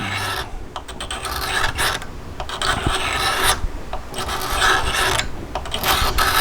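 A resin part from a Forge World Tau Manta model kit is scraped and flattened in steady rasping strokes, close and continuous, with brief pauses between passes of the tool.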